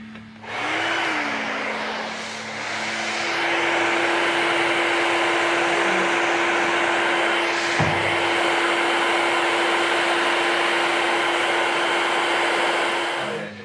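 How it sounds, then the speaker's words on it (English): Hair dryer blow drying a beard after a trim at a barbershop, running loud and continuous at close range with a steady whine, its airflow shifting slightly as it moves. "So I'm just going to blow dry that off quickly."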